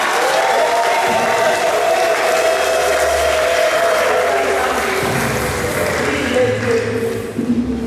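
A church congregation at an evangelism campaign gathering in Brussels applauds and cheers in a steady, loud wash of clapping and voices, with a sustained tone carrying through the crowd noise.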